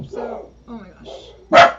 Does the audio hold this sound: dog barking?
yes